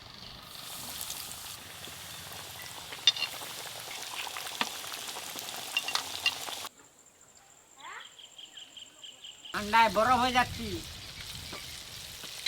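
KFC-style chicken pieces sizzle in hot oil with steady frying crackle for several seconds, then a quieter stretch with a person speaking over it.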